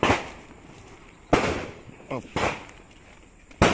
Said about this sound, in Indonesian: itu orang belajar nembak